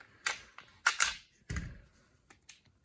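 Glock 30 Gen 5 pistol being taken apart by hand, a handful of sharp metallic clicks and clacks as the slide and parts come loose, close and isolated with quiet gaps between them.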